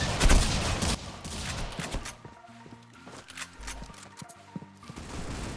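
Desert Eagle pistol fire in a video game: a few loud, sharp shots in the first seconds, then scattered quieter reports and mechanical clicks mixed with music-like tones.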